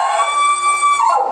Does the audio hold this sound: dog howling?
yes